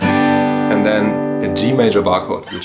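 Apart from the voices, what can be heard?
None of the usual background noises is heard.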